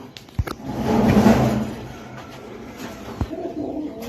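Pigeons at a pigeon farm give a low, murmuring coo near the start, with scattered wooden knocks and clunks from the cages around it.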